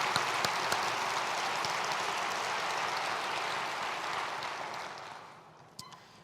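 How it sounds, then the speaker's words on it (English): Breakfast-event crowd at an annual Groundhog Breakfast giving a dense, even round of applause that holds steady and then tapers off, with a couple of isolated claps at the close. "Let's give them a round of applause."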